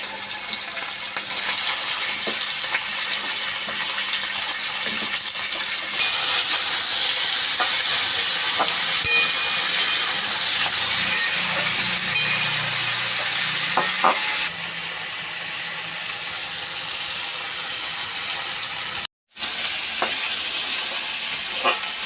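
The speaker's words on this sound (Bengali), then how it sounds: "লাল লাল করে ভেজে দিই পেঁয়াজটা" Onion frying in hot oil with black cumin and coriander in a village kitchen, a loud continuous sizzle with occasional stirring scrapes, steady throughout except for one brief dropout near the end.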